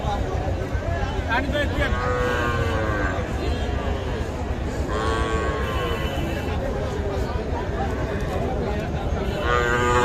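Young bulls and cattle moo repeatedly at Kaharol livestock market, their calls rising over a constant din of crowd chatter and nearby voices.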